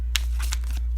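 Tarot cards are shuffled by hand in a few quick, papery riffs and flicks, soft and close over a low steady hum.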